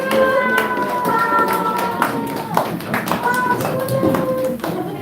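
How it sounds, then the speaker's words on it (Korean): Children and a church congregation at a Christmas service clap together in quick, uneven taps, close and moderately loud, with children's voices and an adult voice mixed in. "와, 박수!"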